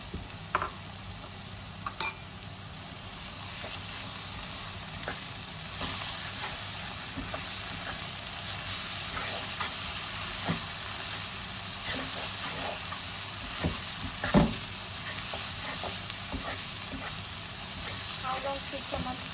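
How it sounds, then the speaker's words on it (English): Masala with a big tablespoon of ginger garlic paste frying in a pan for mangsher ghugni, a steady low sizzle running throughout with scattered scrapes and clicks of stirring, moderately close and fairly quiet. "Fry the masala nicely."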